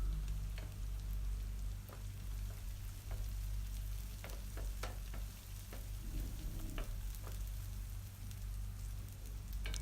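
Ingredients for pepper chicken sautéing in a hot pan, a continuous close sizzle with occasional stirring scrapes and taps over roughly ten seconds, no talk.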